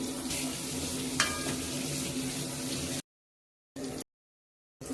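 Masala with pepper powder is stirred in a pan for Kerala-style fish mappas, a close, steady frying sizzle with a light scrape that cuts off abruptly into silence, broken by two brief returns of sizzle.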